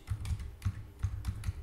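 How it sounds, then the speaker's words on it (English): Computer keyboard typing, a quick run of about a dozen light key clicks in an uneven rhythm, close and fairly quiet, with no voices. "On the browser, just type Edge Impulse"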